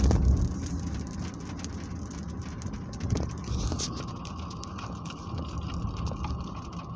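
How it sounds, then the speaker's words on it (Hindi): Heavy rain pours steadily in Riyadh, a dense broadband hiss with scattered drops and splashes, fairly close and continuous throughout. "जबरदस्त बारिश शुरू हो गई है।"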